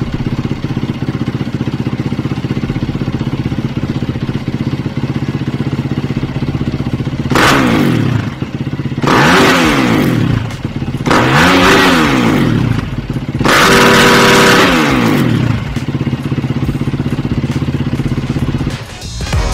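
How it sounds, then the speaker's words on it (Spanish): A Yamaha WR enduro motorcycle idles loudly up close, then four sharp revs climb and fall in quick succession before it settles back to idle. "son las motos enduro de Yamaha"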